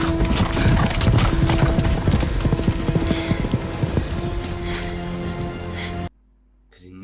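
Horse hooves clip-clop at a steady trot as a rider leaves in a dramatic rainy scene, loud and close over a music score, then break off abruptly into near silence near the end.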